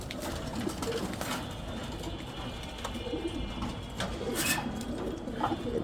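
Girubaz Kobutor tumbler pigeons cooing on a rooftop, soft repeated coos at moderate distance over steady outdoor background noise, with a few sharper bird calls mixed in.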